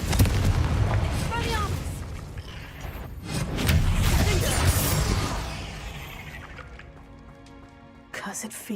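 A Confringo blasting curse from the game Hogwarts Legacy bursts in booming, rumbling explosions, loud and close, with crackling debris, mixed with game sounds and brief voices.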